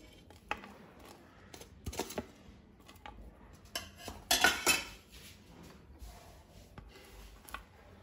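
Rice being mixed with leafy greens spice powder in a dish, giving soft scraping and light clinks of utensil against the plate in scattered bursts, with one louder stirring flurry midway, close and fairly quiet with no talk.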